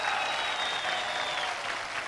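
Steady, dense applause from an audience fills the whole stretch, loud and continuous without pause.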